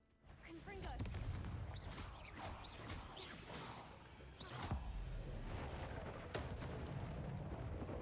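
A Confringo fire spell in Hogwarts Legacy lets off whooshing blasts and crashing bursts amid constant combat noise, with a voice talking at times.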